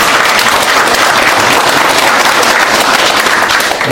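A large crowd at a founding assembly bursts into loud, sustained applause to welcome a guest, a dense, steady roar of clapping with no pause throughout.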